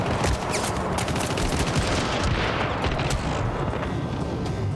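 Rapid bursts of six-shooter gunfire in the video game Syndicate, dense overlapping shots and booms filling the whole stretch at high volume with no pauses.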